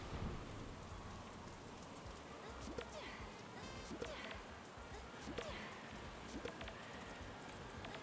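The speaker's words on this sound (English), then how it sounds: "Just chilling out here in the thunderstorm." Steady rain patters through a thunderstorm in the Story of Seasons farming video game, with soft rumbles of thunder rolling under a constant wash of falling water.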